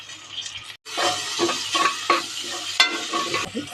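Onions frying in a pan as tomatoes go in for an egg biryani, with steady close sizzling and scraping stirring strokes, a brief drop to near silence early on.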